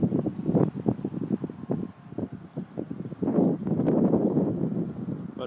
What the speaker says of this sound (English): Getting winds gusting over 30 miles an hour.